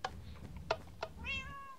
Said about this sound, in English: She loves cats, so we'll feed the cat.